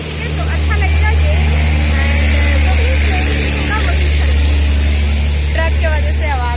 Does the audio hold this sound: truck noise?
yes